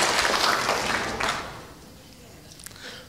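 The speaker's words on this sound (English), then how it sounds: "Let's give him a round of applause" Audience applause at an evening medical lecture, a short wash of clapping that thins and fades over a few seconds, with faint voices underneath.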